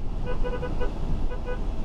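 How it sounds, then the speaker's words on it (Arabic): A Mercedes GLC 200 car horn blares in short harmonic bursts, a heavy, deep tone sounding twice over road and engine rumble inside the car. "البتاع ده تقيل قوي، الكلاكس تقيل"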